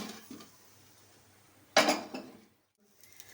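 A single clatter of utensils against a plate as tawa masala dhokla is transferred onto it, close and sharp, then brief quiet scraping before near silence.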